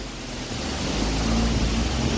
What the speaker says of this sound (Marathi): ताजा ताजा कसा आहे धबधबा